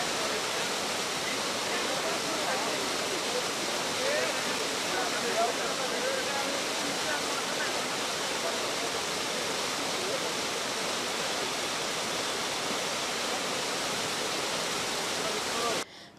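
A mountain waterfall along the Amarnath pilgrimage route rushes in a steady, dense roar, constant and unbroken for about sixteen seconds before ending.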